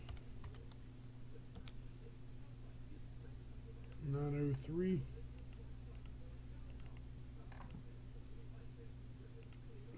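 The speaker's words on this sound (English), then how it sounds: "I'm gonna type live." Live typing of a card code on a computer keyboard, a steady run of light clicks over ten seconds with a speaking voice breaking in briefly midway.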